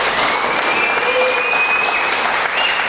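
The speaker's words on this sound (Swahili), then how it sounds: "Tukaribisha mtazamaji wetu kwa makofi," A church audience at a live broadcast claps steadily in a dense, even burst of applause that carries on throughout, with faint voices and a thin whistle or ululation on top.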